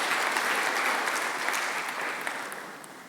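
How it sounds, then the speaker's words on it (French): A church congregation claps together in steady, close applause that eases slightly toward the end. "Nous acclamons le Seigneur"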